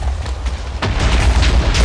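Explosions in the Minecraft Doctor Who mod, a Dalek battle game: a sharp blast near the midpoint over a continuous rumbling roar of further booms that stays loud and dense to the end.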